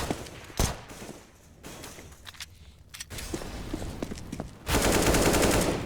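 Counter-Strike match on the Cache map, P250 pistol against AK rifle: sharp gunshots cracking amid footsteps and game ambience, building to a dense, loud burst of sustained fire near the end.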